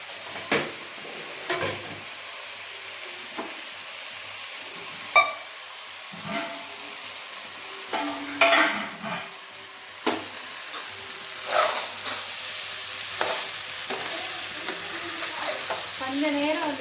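Rice and lentils fry in oil inside a pressure cooker, giving a steady sizzle broken by repeated scraping stirs of a spoon against the pot, close and fairly loud, with no talking.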